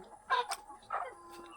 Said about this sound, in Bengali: আমার পিছনে পিছনে হাঁস মুরগি সব থাকে আর কি